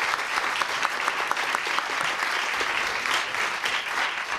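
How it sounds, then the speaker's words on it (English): An audience applauds speakers at the close of a talk session, a dense sustained burst of many hands clapping at once, loud and even from start to finish with no voices over it. "please give them a round of applause."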